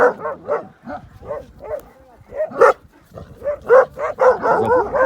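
A dog barks repeatedly in sharp, yelping bursts, loud and close, while walking through a village; the barks come in quick uneven clusters that build into denser, more agitated yapping toward the end.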